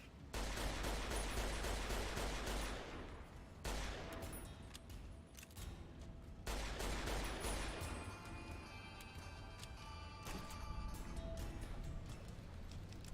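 Grenade launcher explosions and gunfire in a Fallout video game: dense, loud bursts of shots and blasts in long continuous stretches, broken by brief pauses, with heavy low rumble throughout.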